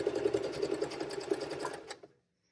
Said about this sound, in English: I'm just going to sew directly on top of my previous stitching